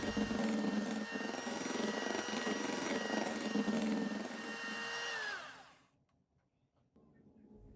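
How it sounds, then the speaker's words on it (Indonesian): Electric mixer on its lowest speed beating cake batter for a layered chocolate cake, a steady close whirring hum that winds down and stops, followed by near silence and faint handling noise. "ini kita aduk pakai mixer kecepatan yang paling rendah sampai adonannya ini tercampur merata"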